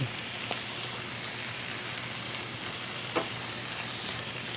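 Baguio beans (green beans) sauté in a pan and are stirred with a ladle. A steady, soft sizzle runs throughout, with a couple of faint scrapes and no talking.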